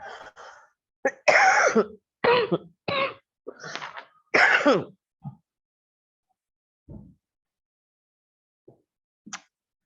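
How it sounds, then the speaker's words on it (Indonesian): A woman coughs several times in quick, harsh bursts, followed by quieter throat sounds and silence. "Maaf ini Ibu batuk terus."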